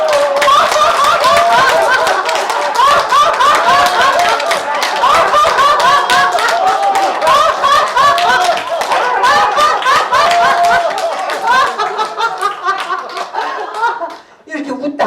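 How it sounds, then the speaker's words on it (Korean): A workshop group in a laughter-therapy session claps hands rhythmically while laughing together, loud and close, with mixed chuckles and giggles riding over brisk clapping that thins out toward the end. "자, 산소 마시고 박수 치시는 거예요. 박수 치면서."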